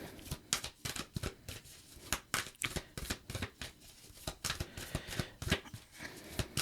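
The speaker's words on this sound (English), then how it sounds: "While I'm shuffling" Tarot cards being shuffled, a rapid run of crisp papery riffles and slaps repeating steadily, close and clear with no talking.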